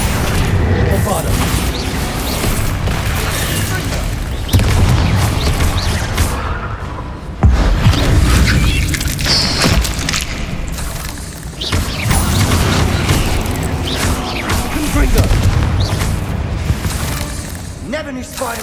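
In the video game Hogwarts Legacy, heavy booming blasts from the Bombarda explosion spell burst out amid dense, loud game sound and clatter, with a couple of sharp impacts standing out.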